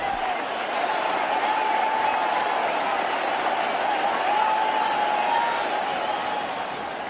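A cricket stadium crowd at a Kolkata Test match between India and Australia roars and applauds after a wicket falls, a dense sustained wash of cheering and clapping that stays loud throughout.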